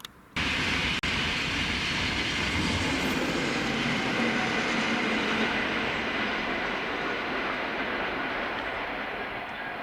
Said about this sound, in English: Trains flying through the station on the above line